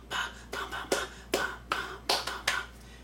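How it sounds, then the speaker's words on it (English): Sharp hand claps sound in a steady rhythm in dance music, about eight crisp claps in three seconds, fairly quiet and close. "And then it starts clapping."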